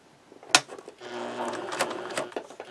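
A sewing machine runs a zigzag stitch through fabric for a simple pencil bag, starting with a sharp click and then a close, rapid mechanical whirring and clatter.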